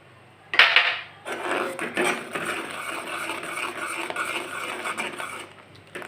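A spoon stirring a milk pudding mixture flavoured with a few drops of mango essence, with a sharp clink against the bowl followed by steady scraping and tapping.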